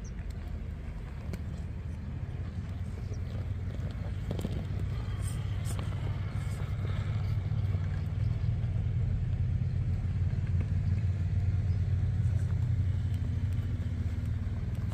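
An Axial Wraith RC crawler fitted with a Fusion motor drives along, giving a faint, steady motor whir and rumble with light scrapes and clicks from the ground, no voices.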